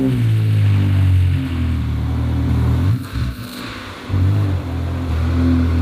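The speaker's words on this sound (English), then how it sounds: "We're officially going to start the car for the first time with our new exhaust system." A Ferrari engine with a new exhaust system fired up for the first time, settling into a loud low idle, then a brief revving surge and dip before returning to a steady rumble.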